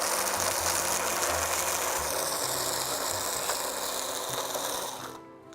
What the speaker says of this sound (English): Now let's grind it into a nice paste.